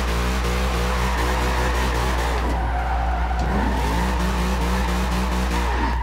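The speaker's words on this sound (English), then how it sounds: "Go in here, do some drifting." A 1957 Chevy Bel Air drifting in the Forza Horizon 2 video game, tires squealing steadily over a loud, constant engine drone, the screech sustained and wavering throughout.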